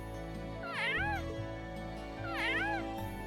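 In the video game Trails of Cold Steel, a cat gives two drawn-out, wavering meows about a second and a half apart over steady game background sound.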